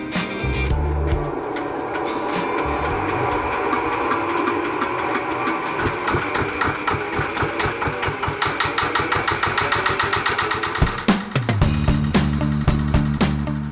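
A modern milling machine grinds roasted glutinous rice, running as a steady, loud mechanical drone with dense rapid knocking and rattling throughout, briefly shifting in pitch near the end.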